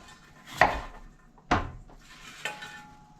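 A knife strikes a board three times while chopping daikon radish, giving sharp, evenly spaced knocks about a second apart, close and fairly loud, with light rubbing between the strokes.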